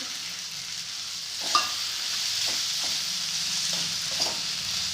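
Chopped okra fries in oil with spices for a bhendi bhaji, producing a steady, close sizzle with a few soft stirring knocks along the way.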